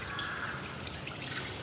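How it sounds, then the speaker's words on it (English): Lab glassware from a titration setup being rinsed with water: a soft, continuous faint trickle and splash of running water, close and quiet, with no voices. "I am just washing this with the help of water for the second reading"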